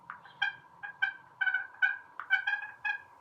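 A voice imitating a hen turkey with a call, giving a series of soft, short yelps in a steady, spaced rhythm, close and clear against a quiet background.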